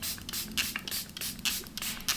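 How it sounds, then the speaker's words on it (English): Rose-scented makeup setting spray is misted over a face in several quick, close hissing pumps, each a short soft burst with gaps between. "I'm just gonna spray it all over my face"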